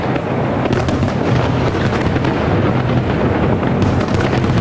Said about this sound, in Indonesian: masih berlangsung pesta kembang api yang cukup meriah di Bangkok